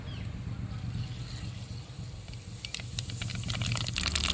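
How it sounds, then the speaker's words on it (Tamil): Mustard seeds and cumin dropped into hot oil for a bitter gourd tamarind curry, a low hiss building into crackling, popping sizzle that grows louder toward the end. "கடுகு சீரகம் போட்டுக்கலாம்."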